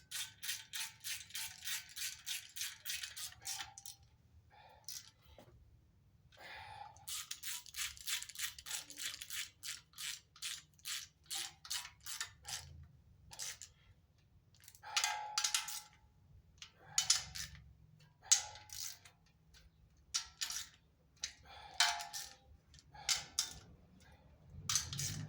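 A ratchet tightens bolts on a 6.0 LS engine during a rebuild, giving quiet bursts of rapid clicking with pauses, then irregular metallic clinks and handling noises.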